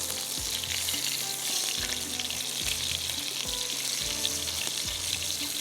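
Kebabs frying in hot oil in a home kitchen, a constant bright sizzle with occasional soft clinks and stirring knocks, close and steady with no talking.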